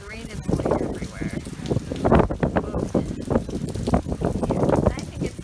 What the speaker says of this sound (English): The wind is getting super strong right now.